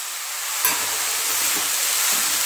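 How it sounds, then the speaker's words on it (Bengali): Spices with coriander powder and pumpkin fry in a pan for a Bengali banana-stem dish, giving a steady close hiss and sizzle with a faint tap of stirring near the start. "সব কিছু ভালো করে ভেজে ভেজে নেব।"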